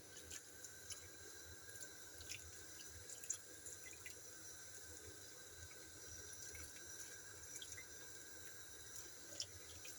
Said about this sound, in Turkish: şimdi şerbetini döküyorum